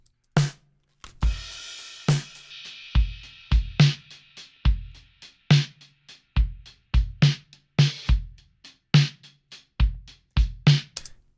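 A full drum kit runs through a SansAmp amp-simulator plugin, giving a driven, gritty tone to a steady beat of kick, snare and ringing cymbals, loud and upfront with no voices.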